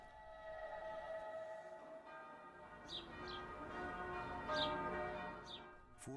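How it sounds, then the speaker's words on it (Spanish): Church bells of the Church of the Holy Sepulchre in Jerusalem ring steadily with a rich, sustained tone, with faint birds chirping now and then in the background. "las campanas suenan en la iglesia del Santo Sepulcro"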